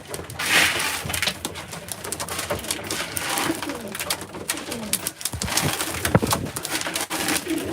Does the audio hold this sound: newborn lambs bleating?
no